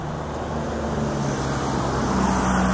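Steady road traffic noise with cars going by, a continuous loud roar and low engine hum filling the whole stretch without pause.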